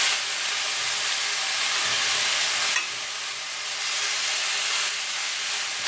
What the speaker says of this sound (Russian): Я обжариваю рулетики без масла.